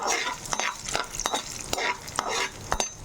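Urad dal frying in hot oil in a pan alongside chillies, sizzling under repeated spoon scrapes and stirs that land about every half second. The sound is close and fairly soft, with no voice.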